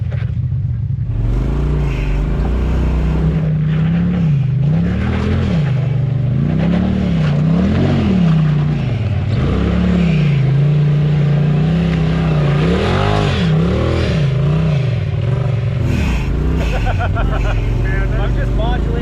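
A side-by-side UTV engine revs in repeated rising and falling surges while crawling an icy winter trail, the throttle modulated in a steady wavering drone, close and loud, with people talking over it.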